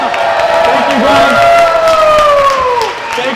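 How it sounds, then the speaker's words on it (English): A crowd at a Los Angeles networking livestream event cheers and applauds loudly for a speaker being introduced, with whoops and shouting over the clapping and a voice carrying through the noise. "Can we get a big applause for Calvin Hay?"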